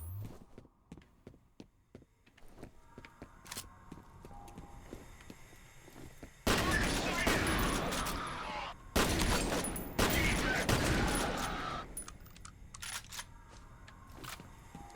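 Shotgun blasts and other gunfire in the first-person shooter F.E.A.R., in a wastewater facility level, start as scattered sharp clicks and shots, then become long, loud stretches of heavy firing, with a brief pause in the middle.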